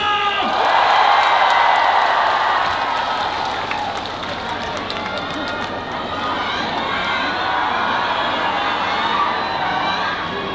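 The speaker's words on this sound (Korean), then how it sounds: "다 같이 박수와 함성!" At the Danyang Sobaeksan azalea festival, a big outdoor crowd claps, cheers and whoops at a live concert, a loud roar that swells early, dips, then holds strong, with children's shouts mixed in.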